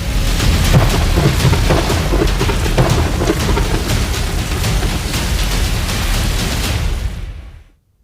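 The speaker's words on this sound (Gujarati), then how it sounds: "શહેરભરમાં ભારે વરસાદ ખાબકી રહ્યો છે" Heavy monsoon rain pours over Junagadh with rolling thunder, a loud dense roar of rain and deep rumbles close by that holds steady, then cuts off abruptly at the end; no talk.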